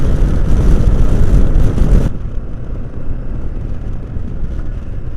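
A 2015 Kawasaki Vulcan S motorcycle being ridden, its engine and rushing road noise loud and steady for two seconds, then dropping to a quieter, continuous rumble as the bike eases off.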